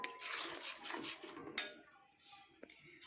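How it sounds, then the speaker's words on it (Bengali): A spoon stirs homemade kheer (malai) in a pan while making kulfi, giving quiet, irregular wet scraping and swishing with a couple of sharper clinks against the metal. "এবার এটাকে আমি খুব ভালোভাবে মিশিয়ে নেব।"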